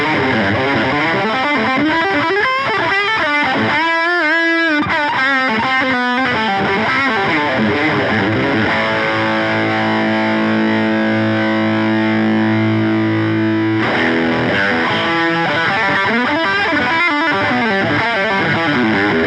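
Electric guitar played through two overdrive pedals stacked together, a thick, saturated gain tone with strummed chords and ringing sustained notes, loud and continuous with no talking.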